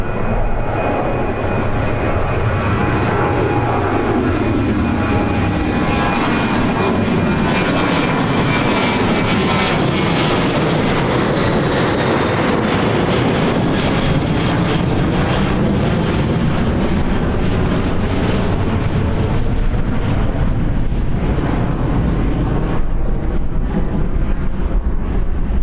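Jet aircraft engines roaring on the runway at Birmingham Airport, a loud, steady, sustained rumble that swells and shifts in pitch as the plane powers up and passes, with no talking.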